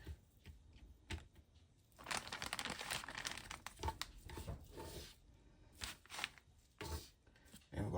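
A plastic bag crinkles and rustles up close in irregular bursts as sliced, tenderized beef for Mongolian beef is put inside, with short pauses between handling sounds and no talking.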